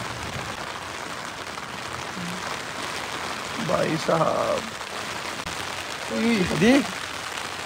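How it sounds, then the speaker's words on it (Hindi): Steady rain hisses in the background throughout at a campsite in Gurez, while people talk over it in short bursts. "बारिश की आवाज सुनो गाइस।"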